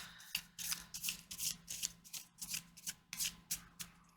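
Tarot cards are shuffled by hand close up, a quick series of about a dozen crisp riffling bursts in a steady rhythm, fairly quiet.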